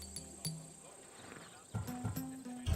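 A Macedonian warhorse in the Assassin's Creed Odyssey video game snorts and whinnies, with a short neigh near the end, while people talk over it.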